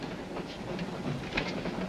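A train running on rails, a steady rolling rumble with faint rhythmic clicks and rattles, moderately loud and continuous.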